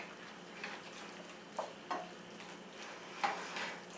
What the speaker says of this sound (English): And now we're going to give this a mix.